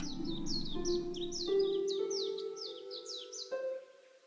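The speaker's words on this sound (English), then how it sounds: "I was listening to the birds." Bright, repeated bird chirps trill in quick succession over a steady tonal backdrop, clear and fairly close.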